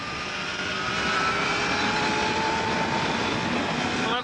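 A motorbike tuned like a 500cc Grand Prix machine, held at full throttle near 150 mph, gives a loud, sustained high-pitched engine wail whose pitch slowly climbs, with rushing wind throughout.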